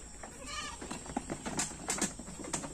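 A goat comes into a shed, giving a few faint, scattered bleats and rustles at a distance.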